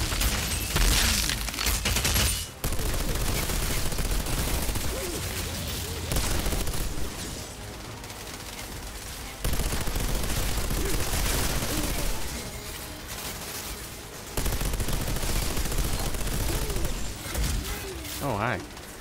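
Gunfire in the video game Outriders, with dense bursts of shots in several loud stretches broken by brief pauses, sometimes under a player's talk.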